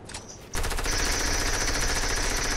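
SMG fire in a video game, a sudden, sustained rapid burst of close, loud automatic shots after a brief quieter moment, continuing unbroken to the end.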